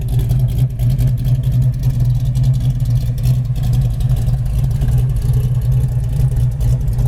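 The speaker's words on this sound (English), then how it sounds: "This has just got the awesome muscle car sound." A 1973 Dodge Challenger Rally muscle car engine runs steadily nearby, a loud, deep, throbbing idle with a pulsing rumble that holds for several seconds without speech.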